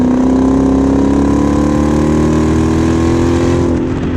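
A Genesis V8 with an exhaust cutout runs loud and steady at close range, a smooth deep drone holding nearly constant pitch with a slight rise, no voices over it.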